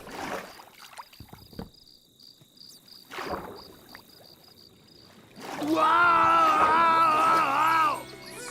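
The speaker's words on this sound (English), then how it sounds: "Sound of all of the insects whirring away in the night." Night-time crickets and insects chirp in a modded video game, a faint, steady pulsing trill over quiet ambience, briefly covered near the end by a louder, tonal passing sound.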